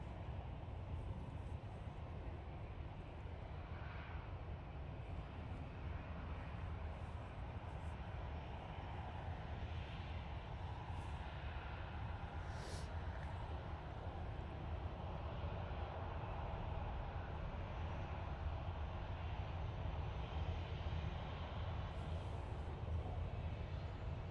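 A Ryanair jet departs Manchester Airport for Dublin on a gusty day, its engines a steady, distant broadband roar that holds level throughout under buffeting wind, with no voices.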